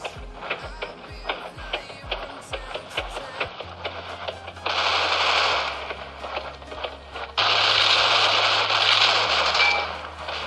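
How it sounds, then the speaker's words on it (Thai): Gunfire from a gun in the mobile shooter C-Ops, a quick run of rapid shots followed by louder sustained bursts of game action, close and prominent with no talking. "ปืนนี้ยิงใกล้เท่าไหร่ยิงตายดีเท่านั้น"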